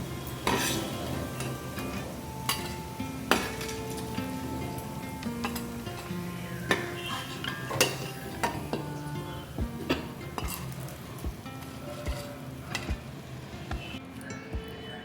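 Cabbage pakoda frying in a second batch of oil while a utensil stirs and scrapes the pan, with sharp metallic clinks and scrapes repeating over a continuous sizzle and light background music.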